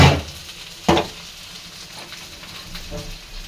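Oil heating in a wok (kadai) on the stove, with a soft steady hiss throughout and one sharper crackle near the start and another around one second in.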